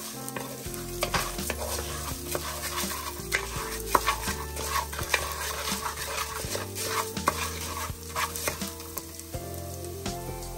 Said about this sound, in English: And you just want to stir this up for about